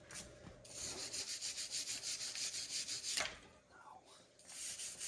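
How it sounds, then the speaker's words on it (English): A rasp or file scrapes across a broken metal flex plate in a steady series of rhythmic strokes, close and fairly quiet, pausing briefly before resuming. "There is a test I can do with a rasp or a file, like here."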